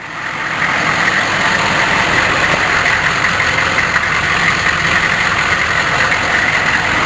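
A cold 6.5-litre turbo diesel engine catches and settles into a loud, steady idle close by, a constant rumble with a faint high whine that holds unchanged for several seconds with no one speaking.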